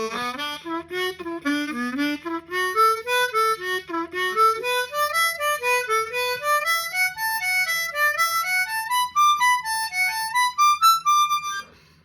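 A blues harmonica runs a scale pattern through its bottom octave, clear reedy notes stepping up and down in a steady, phrase-by-phrase rhythm, played alone and up close with a faint low hum beneath.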